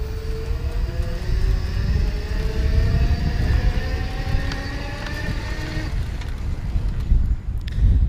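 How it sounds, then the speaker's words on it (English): An ElectroBike Dash, an $800 electric bike, with its motor whining in pedal assist level 3, a thin rising tone over wind and road rumble that cuts out near the end. "give you some idea of what the motor sounds like"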